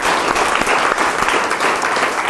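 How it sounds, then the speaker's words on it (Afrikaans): A church congregation at a family camp claps together for the Lord, loud dense applause filling the room steadily throughout, with no words spoken. "Kom ons klap vir die Here aan vir dit"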